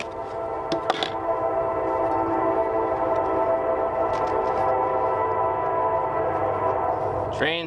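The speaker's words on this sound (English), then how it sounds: "Train's here." A train rolls past at a steady, fairly close distance, a continuous rumbling roar with tonal humming throughout and a brief horn-like blast near the start, with someone speaking briefly outdoors.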